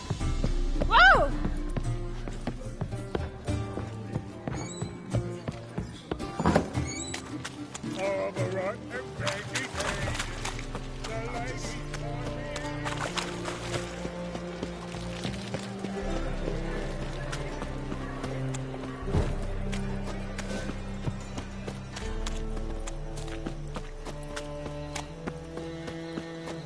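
A horse gallops in the video game Witcher 3, rhythmic clip-clop hoofbeats running continuously with neighs, game music and a voice talking over the action throughout.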